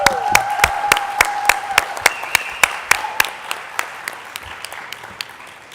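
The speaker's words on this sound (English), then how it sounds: "So this is really deserve a second round of applause." Conference audience applauding at a climate solutions event: a moderate round of distinct individual claps from a modest crowd, steady at first and thinning toward the end, with faint voices underneath.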